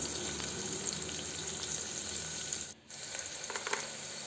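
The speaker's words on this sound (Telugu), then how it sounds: "దీన్ని బాగా దోరగా వచ్చేంతవరకు ఫ్రై చేసుకోవాలండి" Something fries in hot ghee in a pan for restaurant-style ghee rice, producing a steady dense sizzle with a brief dip in the middle before the crackle resumes.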